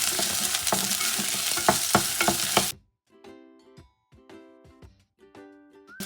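Onion and garlic sizzle loudly in a hot pan for a few seconds, then the frying drops away to quiet clinks and scrapes of stirring with faint tonal ringing.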